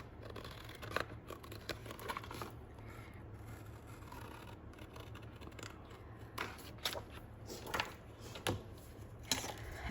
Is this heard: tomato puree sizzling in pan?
no